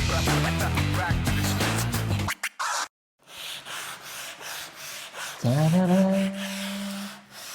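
Sandpaper of 120 grit rubbing across an MDF board in short, scratchy strokes, starting out mixed with background music, then breaking off briefly before steady rasping resumes alongside a sustained tonal hum.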